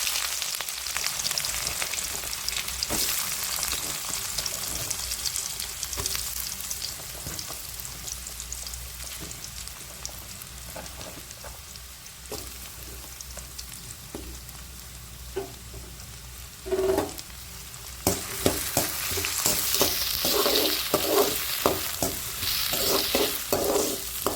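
Onions sizzle in a pan for a yellow pumpkin poriyal: a continuous hiss with repeated spatula taps and scrapes that grow busier and louder toward the end, with no voices.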